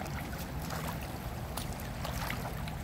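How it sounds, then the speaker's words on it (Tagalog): A strong river current rushes over rocks, a continuous broadband wash of moving water with scattered splashes and gurgles, steady and close with no talking. "malakas-lakas yung agos dyan"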